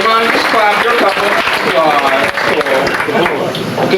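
A comedy club audience claps in a dense, steady patter throughout, mixed with voices and crowd murmur.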